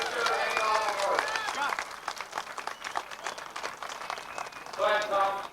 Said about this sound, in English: How about one more round of applause for everybody, including yourself, for the first ever Hancock Memorial.